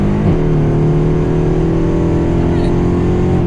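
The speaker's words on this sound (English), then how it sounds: "We can hear the turbo whistle." A tuned 2012 Mercedes-Benz CLS63 AMG heard from inside, with a thin turbo whistle riding over a loud, steady engine drone that holds close and constant throughout.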